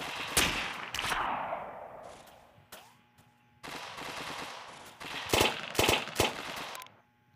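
Rapid gunfire from a favourite gun in a video game, loud bursts of repeated shots with short pauses between volleys, no talking over it.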